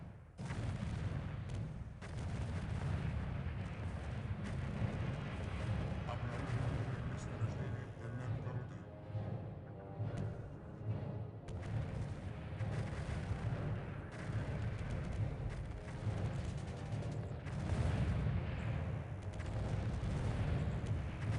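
Cannons firing upgraded shells in the real-time strategy game Earth 2150, a dense, continuous barrage of booming gunfire and explosions under steady commentary talk.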